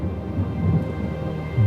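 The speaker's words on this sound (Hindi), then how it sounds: "इतनी अच्छी बारिश हो रही है, मजे की बाहर।" Steady rain falling outside with a low rumble of thunder, a continuous wash of sound at moderate level with no voices.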